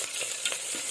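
Whole spices such as cloves, cinnamon and cardamom sizzling in hot Dalda for egg biryani, a steady close frying hiss with faint stirring, no talk.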